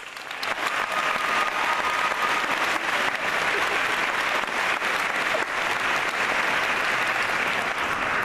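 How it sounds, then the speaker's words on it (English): A graduation audience at a New Jersey dental school claps loudly and continuously, dense applause filling the hall from start to finish. "give ourselves a round of applause"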